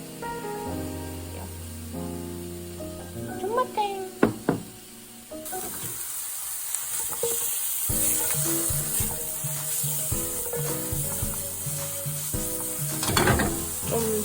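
Food sizzles in a hot pan, steady and close. A few sharp knocks and clanks from utensils come early, and the frying noise swells louder partway through. No one speaks.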